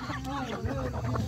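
A chicken clucks close by in short, choppy bursts, with faint background noise around it.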